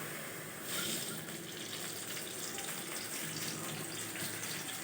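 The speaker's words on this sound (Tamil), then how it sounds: "அதுக்கப்புறமா எண்ணெய் ஊற்று கொஞ்சம்" A small amount of cooking oil poured into a pan while making ridge gourd chutney, a steady soft liquid trickle held through the whole stretch with no talking.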